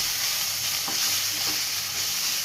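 Ginger, garlic and chilli powder sauté in hot oil in a pan for a watermelon rind curry, giving a steady close sizzle with a couple of soft stirring scrapes and no voices.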